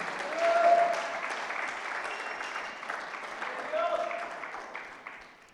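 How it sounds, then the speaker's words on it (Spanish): A church congregation applauds, with steady, moderately loud clapping from a crowd that swells early and holds, then tapers off, with some voices mixed in. "Démosle un gran aplauso a Dios por su palabra"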